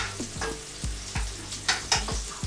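Onions sizzle and crackle in a hot pan while cooking Japanese chicken curry, with a few sharp clanks and scrapes of a utensil stirring at irregular intervals.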